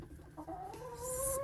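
Backyard hens cluck softly inside a coop in the early morning, a few short, close clucks rising in pitch and growing louder toward the end, with no talking.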